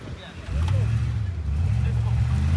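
An off-road vehicle stuck in beach sand revs its engine in a low, throbbing rumble that swells and holds steady as it tries to pull free during a recovery. Voices talk briefly at the start.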